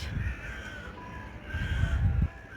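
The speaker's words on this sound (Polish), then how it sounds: "I dużo wron jest." Several crows cawing near the Büyük Çamlıca Mosque in Istanbul, harsh repeated calls over a steady outdoor wash of background noise, fairly close and loud, with no talk.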